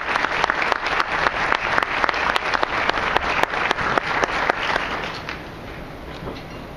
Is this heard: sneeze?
no